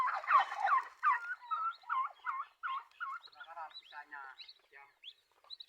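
A flock of turkeys gobbles in a long run of rapid, warbling calls, loud and close at first and then fading to softer gobbles, with no talk over them.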